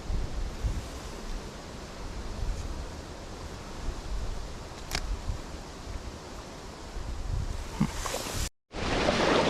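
Steady wind rushing over open water while trout fishing, ruffling the surface, a broad windy hiss with gusts buffeting the microphone, no voices.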